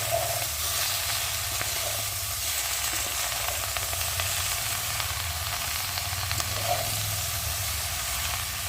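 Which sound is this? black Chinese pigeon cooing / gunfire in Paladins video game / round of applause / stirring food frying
stirring food frying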